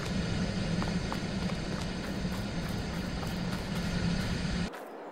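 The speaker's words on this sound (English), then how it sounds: "You can hear the dryer running right now." A corn dryer in the Farming Simulator 22 video game runs with a loud, steady mechanical whooshing drone that cuts off abruptly near the end.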